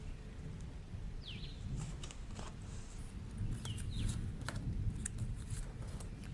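Rain pours outside with a low, continuous rumble of thunder beneath it, the storm building slightly louder toward the end, with a few faint bird chirps and no talking.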